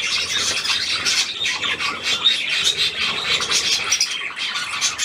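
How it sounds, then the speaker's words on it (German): Several unfamiliar birds call and squawk continuously at close range, a dense, steady chatter of harsh, high-pitched cries with no talking. "Drei Vögel, die ich gar nicht kenne."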